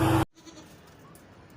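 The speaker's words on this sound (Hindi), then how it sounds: "ये मेरी बकरी है" A goat for sale at a livestock market gives a single short, loud bleat at the very start, followed by quiet background noise.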